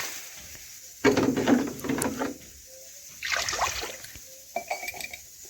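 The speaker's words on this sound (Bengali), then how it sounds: "কড়ার মধ্যে এখন পরিমাণ মতো আমি জল দিয়ে দিলাম" Water poured into a kadai while preparing shelled peas in a home kitchen, a splashing, trickling stream in two bursts with a faint clink in between, close and without talk.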